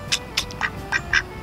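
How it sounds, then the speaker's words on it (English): Ducks quack in a series of six or seven loud, nasal calls at an uneven pace, close by, with quiet background noise between them. "I'm sorry if the quacking is annoying."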